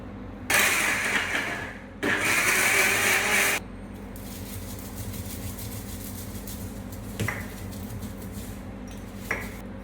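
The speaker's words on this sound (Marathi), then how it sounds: "आता हे मिक्सरमध्ये 1 टमॅटो अर्धा कापलेला, 2 कांदे आणि या 10 लसणाच्या पाकळ्या" A mixer grinder blends tomato, onions and garlic cloves in two loud bursts of whirring grind with rattling contents, then stops, leaving faint kitchen clatter and a couple of brief clinks.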